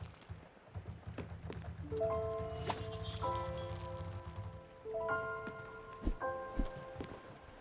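Watering crops in the game Spiritfarer, soft pattering water droplets with a faint trickle, accompanied by gentle tonal game music notes, quiet and close.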